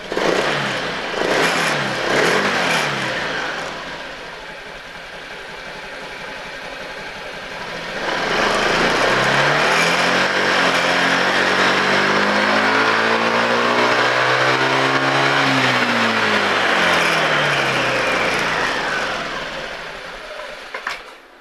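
Engine revving during idle and rpm adjustment, with an initial rev, a steadier idle, then a long sustained rise and fall in pitch, loud and close with no speech.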